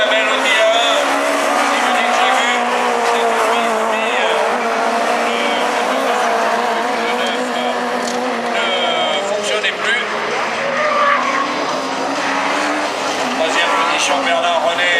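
Super 1600 rallycross race cars roar around the Châteauroux circuit, engines loud and revving with occasional tire squeal, while a commentator talks over the racing throughout.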